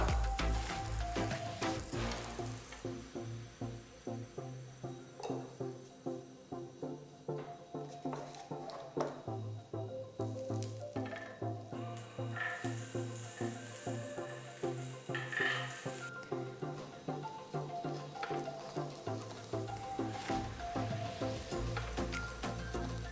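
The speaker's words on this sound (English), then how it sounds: "I'm just going to grill this sandwich on a grill pan" Buttered sandwich grilling on a hot grill pan, a steady close sizzle with crackling pops running continuously for over twenty seconds, no talk.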